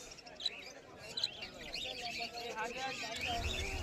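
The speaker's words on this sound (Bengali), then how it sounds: "এখানে প্রচুর পরিমাণে বদ্রি পাখির কালেকশন রয়েছে" Budgerigars chirp at a busy bird market, faint high tweets scattered over a murmur of crowd noise and a talking voice.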